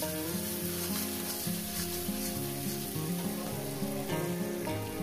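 Small pieces of shrimp fry in a pan for a dish of local kalmi greens, giving off a steady, even sizzle beneath soft background music.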